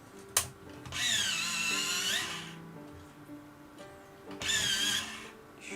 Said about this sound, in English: Sharpen these a bit.